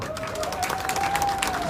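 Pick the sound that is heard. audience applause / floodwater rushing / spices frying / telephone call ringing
audience applause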